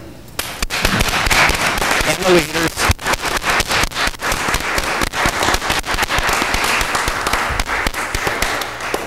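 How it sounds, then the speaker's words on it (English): Room-filling applause from attendees at a Scranton, Pennsylvania city council meeting, dense steady clapping with sharp individual claps running throughout, a brief spoken phrase heard over it. "If you would just stand quickly so we could applaud you for your work."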